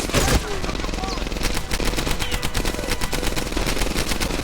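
Rapid gunfire from the World War II shooter game Medal of Honor: Airborne, dense bursts of automatic shots cracking loudly and continuously, with a brief voice near the start.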